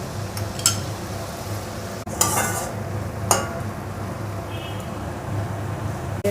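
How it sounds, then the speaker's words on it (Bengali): Masala with salt being stirred in a pan for a fish curry, a few scattered scrapes and clinks of a spoon on metal over a low steady background hum, near and fairly quiet, no speech. "নেড়ে দেবে, না হলে নিচে লেগে যাবে"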